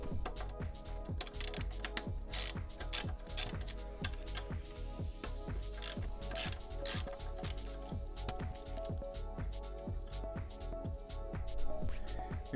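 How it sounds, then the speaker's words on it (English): A ratchet tool loosens the pinch bolts on a 2020 Aprilia RSV4 1100 Factory motorcycle, making rapid, steady metallic clicking that continues close up and fairly loud for over twelve seconds. "So first things first, got to loosen these pinch bolts."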